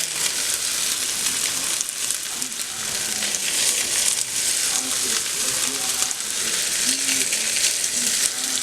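Slices of Spam fry in a pan for a Spam musubi, giving a steady, close, bright sizzle that crackles continuously throughout with no one talking.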